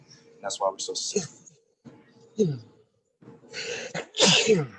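A person talks briefly, then a pause, followed by a sharp close sneeze and another loud sneeze burst near the end.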